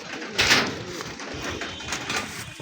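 Red-marked pigeons of rice quality give soft, low coos while being held and handled, under a faint continuous background hum with a few light bumps and rustles.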